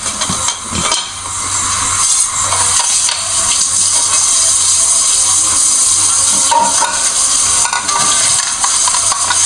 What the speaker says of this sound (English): So let's stir a bit.